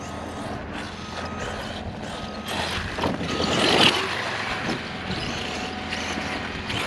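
An Arrma Outkast 8S RC truck running a Castle Creations XLX2 system on a construction site gives off a steady, gritty mechanical whir and grinding gear noise that swells briefly midway. No voices are present.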